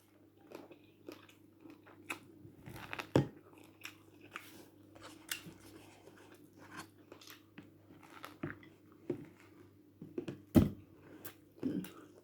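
Bites and chews on sweetcorn eaten without hands, a series of close, crisp crunches and wet mastication scattered across the stretch with louder bites near the middle and end, no talking.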